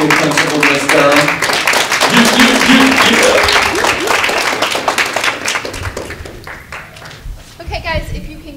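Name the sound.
applause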